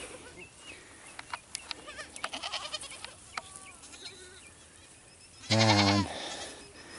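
Goats on a Jamaican farm: scattered clicks and small noises come first, then one loud, close, wavering bleat near the end.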